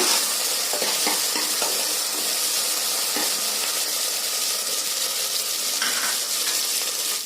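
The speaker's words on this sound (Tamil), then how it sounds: "சேர்த்து நல்லா இந்த ஆயிலில் வதக்கி விடுங்க" Chopped native tomatoes and onions sizzle and fry in oil in a pan while preparing a sprouted green gram curry, a steady close hiss with occasional stirring scrapes and no talking.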